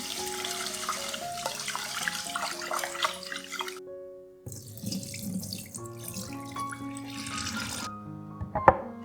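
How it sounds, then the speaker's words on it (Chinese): Tap water runs steadily into a rice cooker pot as rice is rinsed for a vegetarian dish, with swishing and splashing, a brief lull near the middle, then the flow resumes. No one speaks. "首先将米倒入饭锅里，洗干净备用。"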